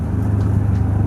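Subaru WRX hatchback pulling hard in first gear, a brief steady low engine drone heard from inside the car.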